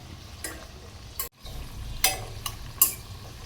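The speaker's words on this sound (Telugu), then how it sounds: "ఇప్పుడు మనం ఈ ఇలా వేయించుకోవాలి కలపాలి ఒకసారి" Amla pickle ingredients stirred and fried in a pan, with a low steady sizzle and several sharp scraping clinks of the spoon against the pan spaced through the clip, close and alone.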